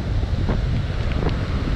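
Strong wind buffeting a microphone on a monsoon coast with heavy rain and rough sea, a loud continuous roar and rumble with gusty fluctuations and no voices.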